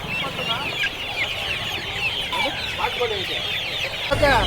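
Chickens cluck steadily at a crowded country market for native fowl, a dense, continuous chorus of overlapping calls nearby, with a faint murmur of people in the background.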